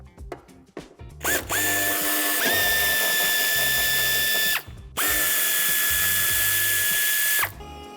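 A power driver whirs loudly in two long, steady bursts, with brief ratcheting before and between them, while undoing the bumper screws on a 2019 Opel Zafira Life during a tow-hitch installation.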